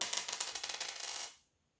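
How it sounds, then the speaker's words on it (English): Dice roll and clatter across a hard surface in a quick run of small rattling clicks that lasts just over a second and then stops, fairly quiet. "Roll the dice again."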